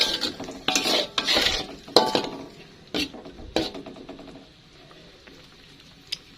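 Kiong snails tossed with seasoning and a little sugar in a pan, metal utensil scraping and clattering in a quick series of stirring strokes, close, then fading to quiet.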